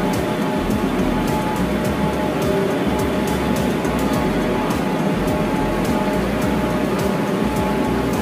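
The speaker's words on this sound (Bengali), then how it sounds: "তো শিয়ালদার উদ্দেশ্যে মেট্রো দাঁড়িয়ে আছে।" A metro train stands at Sector 5 Salt Lake station bound for Sealdah, giving a steady, loud rumble of idling machinery and station hum that runs unbroken throughout, with no voices.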